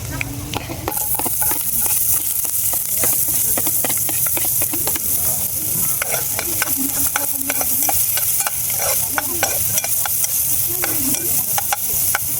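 Onions go into garlic frying in oil over a camping stove and sizzle loudly and constantly, with the scrape and clatter of a ladle stirring in quick repeated strokes throughout.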